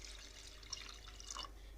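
Water is poured into coarse wheat porridge (dalia) for talbina, a soft steady trickle and splash with faint drips, quiet and close, with no talking.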